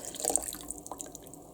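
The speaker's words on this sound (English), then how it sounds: "Then I'm going to add this hot melted butter and milk." Hot melted butter and milk poured into a cinnamon roll mixture, a brief close splashy trickle of liquid with a few drips, no voices.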